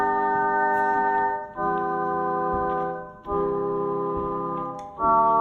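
Thick block chords on a Casio keyboard ring out one after another, four sustained electronic-toned chords each held for about a second and a half with short gaps between them, alone and fairly clear.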